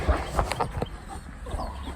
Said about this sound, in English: Say hi to my dog.